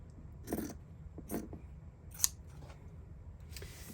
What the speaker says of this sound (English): I'm going to go ahead and trim this a little bit because I don't need all that extra corners.